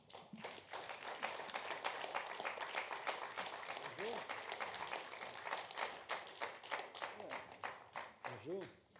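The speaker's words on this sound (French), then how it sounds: "vous demande d'accueillir sous vos applaudissements Frédéric Tadei." A stage audience breaks into sustained applause as a guest is welcomed at a live interview event, the dense clapping running throughout with a few scattered voices underneath.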